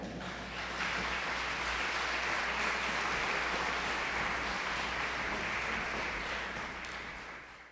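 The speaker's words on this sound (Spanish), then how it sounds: "Lo recibimos con un fuerte aplauso." A conference audience gives a strong, steady round of applause to welcome the new commissioner opening a lecture series; the clapping swells quickly, holds dense and loud, then tapers near the end.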